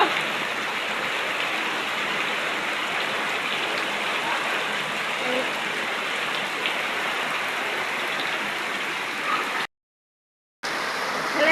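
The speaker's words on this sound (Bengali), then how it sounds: "আজকে শুক্রবারের দিন, আজকে সেই বৃষ্টি হচ্ছে" Heavy rain pours steadily in a dense, hissing roar, continuous and unbroken, with a brief silent gap near the end.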